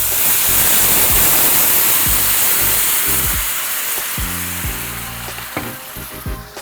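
Pre-mixed Mongolian beef sauce hitting a hot pan with a loud, steady, close sizzle that slowly eases off, broken by a few clunks of a utensil stirring.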